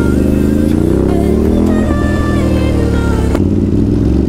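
Ducati SuperSport 950S motorcycle ridden offroad, its engine loud and close with rising revs and a quick gear shift partway through, a steady mechanical roar throughout.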